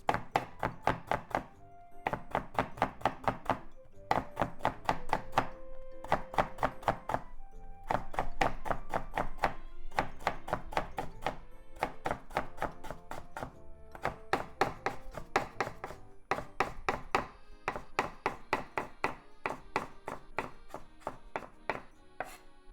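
A knife chops food into strips on a cutting board in a home kitchen while tuna rice is prepared, with steady rapid bursts of close, crisp thunking cuts in repeated runs and short pauses between them.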